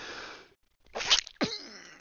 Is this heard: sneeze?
yes